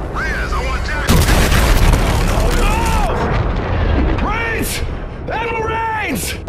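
Heavy enemy weapons fire and booming blasts in Call of Duty: Infinite Warfare crash loudly and continuously, with radio-style voices speaking over the barrage throughout.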